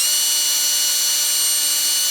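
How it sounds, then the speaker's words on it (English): A power drill runs continuously, boring into sacrificial timber beneath a woodworking board, a steady high-pitched whine held at constant speed, close and loud with no talk. "I'm not actually worried where I drill as long as I've got 2 points, a little bit of sacrificial timber of course"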